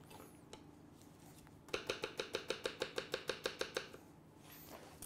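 A knife finely chops shallot on a cutting board in a quick, even run of about a dozen crisp close taps lasting a couple of seconds, with quiet handling noises before and after.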